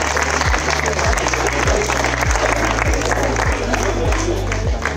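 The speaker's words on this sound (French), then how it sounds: "On peut les applaudir aussi." Sustained audience applause in a stadium venue greets recruiters, including a departmental council team, at a job fair, with steady clapping over a repeating low sweeping hum.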